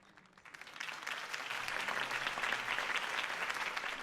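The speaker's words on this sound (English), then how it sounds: "If only Mr. Wayne, my campaign's largest backer, could have heard that applause" Applause from a crowd after a mayoral campaign speech in the Batman Telltale video game, rising from a quiet start into steady, dense clapping that holds for several seconds.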